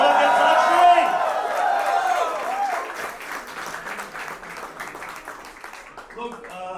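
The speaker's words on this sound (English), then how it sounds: "can we have a loud round of applause for the new couple?" A wedding audience gives the newlywed couple a loud round of applause during a speech, dense clapping that starts strong and slowly thins out over several seconds, with chatter mixed in.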